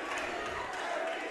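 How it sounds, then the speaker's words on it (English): A wild crowd cheers and roars in a basketball gym during a tied game in the final minute, a loud, steady wash of voices with no pauses. "wild crowd here"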